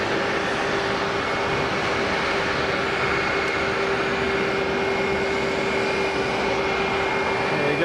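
A British Airways airliner taxis at Geneva Airport, its jet engines giving a steady, loud whine and broad rumble that hold evenly throughout.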